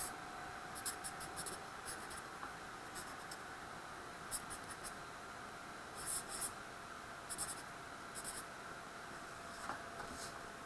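Marker strokes on a classroom board while an endothermic energy diagram is drawn for a chemistry equilibrium lesson, short scratchy bursts of writing separated by pauses, faint and close, with no talking.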